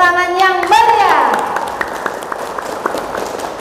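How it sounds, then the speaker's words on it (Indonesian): An audience at a business training presentation breaks into applause right after a voice finishes speaking, with a burst of dense clapping that gradually thins and fades over a few seconds. "Master Coach pagi kita hari ini Abi Darwis, beri tepuk tangan yang meriah."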